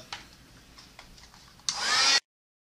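A hair dryer switches on to dry an art journal piece with sewing thread, a loud close steady whoosh after a few faint clicks and handling sounds, then cuts off abruptly.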